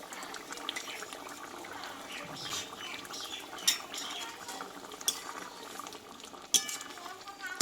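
Taro (gati kochu) curry simmers in a pot with a soft, continuous bubbling; several sharp clinks of a spoon against the pot cut through at intervals.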